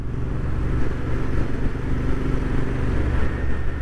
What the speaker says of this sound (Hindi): तुमने एग्जॉस्ट सुनने का मन कर रहा है तो नेचुरली तुम थ्रॉटल तो हो गए सुनने के लिए